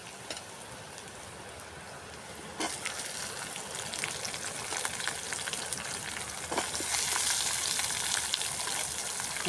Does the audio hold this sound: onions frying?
yes